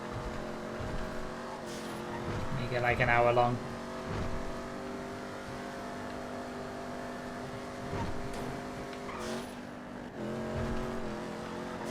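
Race cars in GTA FiveM lap the Los Santos GP North Loop, a steady close engine drone with gear shifts and a car whooshing past, while a person speaks briefly.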